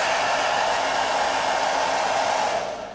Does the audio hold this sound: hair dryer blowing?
yes